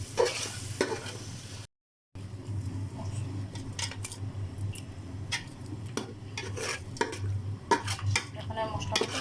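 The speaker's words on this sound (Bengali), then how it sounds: "এখন আমি মশলাটাকে কষিয়ে নেব।" Ground spice paste of cumin, cinnamon, ginger, garlic and onion being stirred and fried in a pot for biryani, with close sizzling and repeated scraping and clinking of a spoon against metal over a steady low hum.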